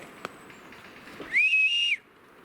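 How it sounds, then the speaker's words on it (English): A single sustained whistle rings out in the woods, rising briefly and then holding steady for about half a second, fairly close and clear, with only faint background around it. "Did you hear the vocals on that? That was a vocal whistle."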